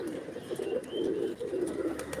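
Black cross-breed pigeon with a crested head cooing close by, soft low throaty coos repeating in a steady rolling rhythm with faint high chirps from other birds behind.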